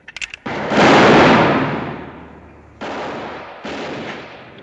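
Gunshots ring out in a western movie street gunfight, a loud close blast with a long echoing tail followed by two more reverberant shots, with no talk.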